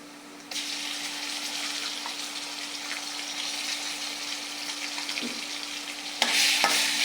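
Ginger and garlic paste hits browned onions in a hot pan, starting a steady loud sizzle that keeps frying evenly, with a sharper burst of crackling near the end.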